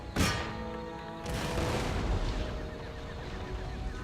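Artillery fire in Empire: Total War, a sharp loud blast at the start followed by a rolling wash of cannon booms and battle noise, with a second surge about a second later.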